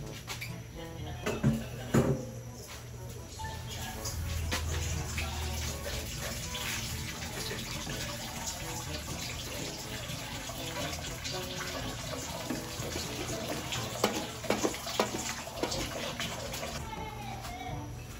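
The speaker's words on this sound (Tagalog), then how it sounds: "Lalagyan ko na din po ng tubig." Water poured into a cooking pot while making chami noodles in a home kitchen, a steady close splashing stream running for most of the clip, with a few louder clatters near the start and end.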